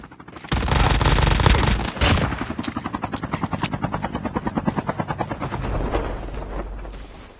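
In the battle royale mode of Call of Duty Mobile, a helicopter thumps loudly and close with rapid rhythmic rotor pulses, while bursts of gunfire crack over it.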